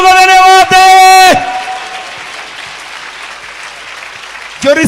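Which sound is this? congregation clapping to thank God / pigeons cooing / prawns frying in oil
congregation clapping to thank God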